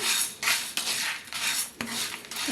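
Whole spices dry-roast in a pan for homemade garam masala and rasam powder, stirred with a metal spoon in repeated scraping, rattling strokes, close and fairly loud, with brief pauses between passes.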